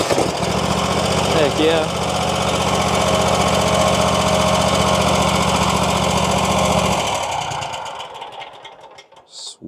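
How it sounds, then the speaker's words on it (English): A RedMax CZT54X zero-turn mower engine runs with a loud, steady droning chug for about seven seconds, then cuts out and fades. Someone speaks briefly over it. "it's cranking up without a jump pack."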